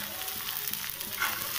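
Vegetables and onion frying together in a pan over medium-low heat, a steady close hiss of sizzling oil with faint scraping, alone and without talk.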